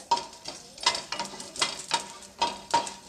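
Masala spices dry-roasted and stirred in a pan for North Karnataka biranji rice, with repeated scraping stirs in a steady rhythm over a light sizzle, close and moderately loud, no talking.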